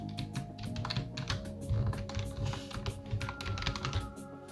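Rapid, uneven clatter of keys on a computer keyboard, continuous and close throughout, with no voices.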